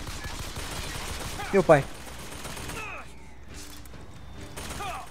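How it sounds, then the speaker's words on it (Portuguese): Gunfire and a turret being destroyed in the video game BioShock Infinite, heard as rapid bursts of shots with a few metallic impacts, fairly quiet, while someone speaks Portuguese over the top. "deixa eu só destruir essa torreta aqui, então"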